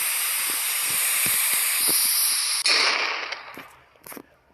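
A firecracker fuse hisses steadily and loudly for a couple of seconds, then gives a sharp sputtering burst before trailing off into fainter crackles.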